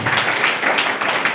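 A church congregation at a Holy Mass for the St Joseph feast claps briefly for the priest, a short burst of many hands in slightly pulsing waves.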